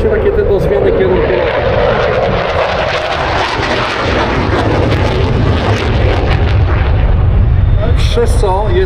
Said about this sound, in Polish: Tak wykonuje się manewr przeciwrakietowy. Odpala się flary i wykonuje się taką nie beczkę, tylko taki obrót na wznoszeniu